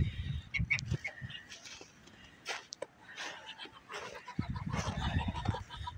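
Geese in a gaggle with several ganders, honking in short, loud bursts that come in clusters at the start and end, with quieter fowl calls in between.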